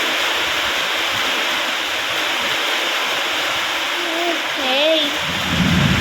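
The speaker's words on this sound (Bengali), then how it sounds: "আমাদের এখানে বৃষ্টি হচ্ছে" Steady, dense rain pours down outside a home, a continuous broadband wash filling the whole clip, while voices murmur and a higher voice calls out briefly near the end.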